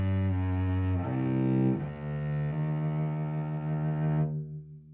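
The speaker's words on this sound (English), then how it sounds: "And this is the sound of an inverted yield curve." Sonification of an inverted yield curve: a sustained, harmonically rich synthetic tone steps downward in pitch, then holds a lower drone before fading out, with no talking.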